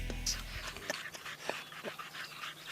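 A coyote decoy dog yelps and whimpers after a coyote bites its ear, close sharp cries and panting breaths in a short uneven series with no talking.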